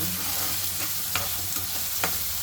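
Curry leaves and onion frying and being stirred in a pan: a steady close sizzle with a few sharp scraping clinks of the utensil against the pan.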